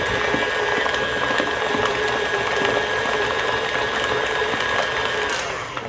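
An electric mixer whips no-sugar-added cheesecake batter, a steady loud whirring motor drone with a faint rhythmic rattle running continuously and easing off at the end.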